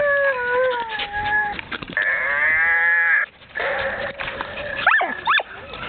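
A Babble Ball dog toy at a dog park emits strange electronic warbling and bleating tones, a run of sliding pitched sounds and buzzy chatter lasting several seconds, loud and close.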